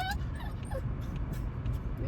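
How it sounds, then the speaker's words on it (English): Excited puppies barking, yipping and whimpering close by, a busy overlapping chorus of high yelps over a low background rumble. "because the puppies are going crazy"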